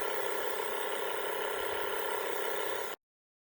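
A small LokiThor wireless rechargeable air compressor pump runs with a steady, continuous buzzing drone, close and even, cutting off abruptly near the end.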